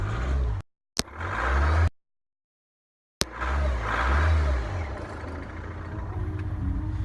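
A PT Cruiser CRD diesel engine cranking reluctantly in the cold: loud churning starter bursts broken by a silent gap, then a rough rumble that settles into a steady run.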